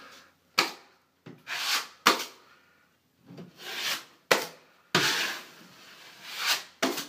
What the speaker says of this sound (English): I'm gonna take our knife. I'm gonna pull all the mud out from behind it.